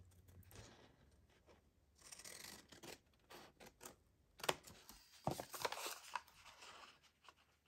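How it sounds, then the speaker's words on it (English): Scissors snipping paper triangles for handmade envelopes, a quiet run of irregular crisp cuts and rustles up close, with no voices. "So we've got to cut out our triangles."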